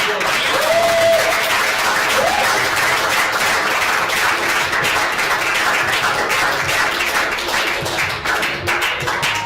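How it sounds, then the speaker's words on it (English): An audience at a talk giving a sustained round of applause, dense steady clapping filling the room at an even loudness from start to finish, with no voices standing out above it. "A huge round of applause"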